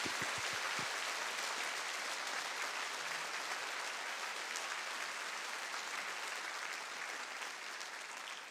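An audience in a church claps warmly to welcome missionary Kim Jong-woo to the pulpit, a dense steady applause that holds for several seconds without voices.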